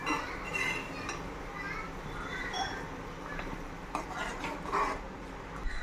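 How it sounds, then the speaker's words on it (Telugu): Fish pieces slide into a bubbling Nellore fish curry with soft clinks of a utensil against the pot over a low simmering background, all fairly quiet. "ఇప్పుడు మనం ఇందులో చేప ముక్కలు వేసేసుకోవాలి ఫ్రెండ్స్"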